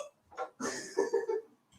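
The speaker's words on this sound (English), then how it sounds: "I said you could say hello, not burp in my ear." A child lets out a series of short, gurgling burps close to the ear, three or four quick throaty pulses after a brief lead-in.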